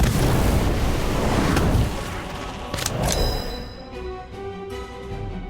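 Incendio fire spell in Harry Potter Magic Awakened: a dense, roaring burst of fiery noise fills the first two seconds, then fades into crackles and bright chiming tones that ring out and decay.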